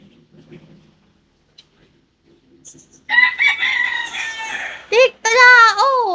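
After a few faint, quiet noises, a rooster crows loudly and close by, a long drawn-out call followed by a second burst.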